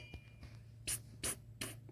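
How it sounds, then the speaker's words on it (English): A spray bottle of soapy water is squirted three times, in quick, evenly spaced hissing bursts, at an air leak under a 1972 Dodge Charger, with a steady low hum beneath. "I'm going to get up under there with a spray bottle and do a little"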